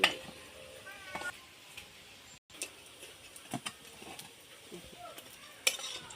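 Banana and potato fritters sizzle in hot oil in a frying pan, a steady crackle broken by scattered pops, light stirring and utensil clicks, with no talking.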